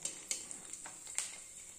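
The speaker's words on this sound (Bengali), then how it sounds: "দেখছো ফুচকা ভাজছি" Store-bought fuchka puri shells frying in hot oil, a faint steady sizzle with small crackles and pops scattered through the short stretch.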